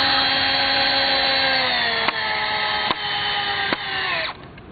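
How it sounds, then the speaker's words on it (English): A power drill drives screws into a wooden sawhorse, whirring loudly and steadily, its pitch dropping as it bites, with a few sharp clicks before it winds down at the end. "Then drill the screws in."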